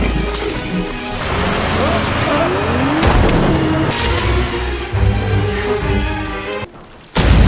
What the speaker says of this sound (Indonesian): Aubrey kemudian muncul dengan mengendarai mobil dan langsung menabrak Sarah